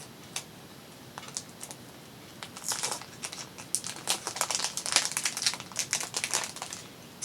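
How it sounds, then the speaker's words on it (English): Plastic packaging crinkling close by, a series of irregular crackling bursts that start sparse and grow denser and louder midway, with no voices over it. "Someone mentioned that the plastic crinkling was a little loud"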